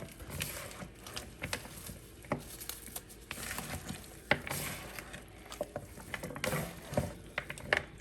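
Seasoned oxtails are mixed in a bowl, making quiet, irregular wet squelches and soft knocks that continue without pause.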